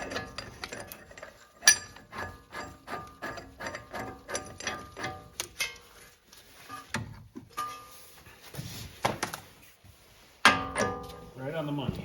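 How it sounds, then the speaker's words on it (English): A ratcheting puller works a press-in wheel bearing out of an '85 car's hub, its pawl clicking in quick bursts of repeated strokes with metallic knocks and pauses, close and fairly loud. "Let's get this tool on here and start pulling this wheel bearing out."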